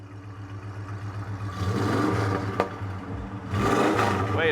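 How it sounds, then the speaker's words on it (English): An unrestored 1974 Dodge Charger SE with TTI exhaust idles with a low, loping burble, then is revved twice, each rev swelling into a louder, throaty roar before settling, heard close by. "You want to go in there and give it a little rev so they can hear it?"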